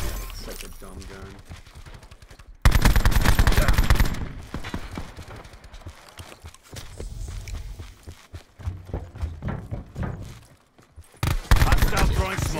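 Gunfire in a first-person shooter at close range, sharp bursts of rapid shots and scattered single cracks with brief pauses between volleys, loud and near, with a voice talking in the gaps.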